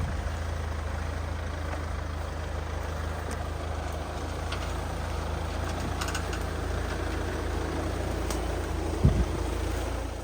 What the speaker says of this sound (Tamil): நம்ம கிஷோர் சார் அப்படியே வந்து நார்மல் ரோட்டில் ஓட்டுற மாதிரி வண்டி ரிவர்ஸ் எடுத்துட்டார்